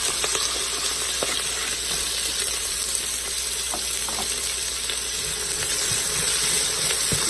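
Mustard seeds splutter and crackle in hot oil in a home kitchen, with a continuous sizzling hiss and scattered small pops close by. No one talks.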